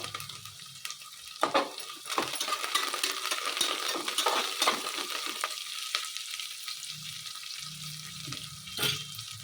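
Coriander leaves tossed into a frying tempering for vangi bath bring a close, continuous sizzle broken by stirring scrapes and a few sharper clicks, moderately loud, with no one talking.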